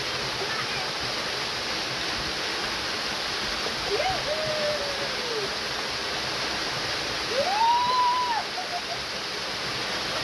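A waterfall at Lohas Park roars in a steady, close, full rush of falling water, with two brief tonal calls rising above it partway through.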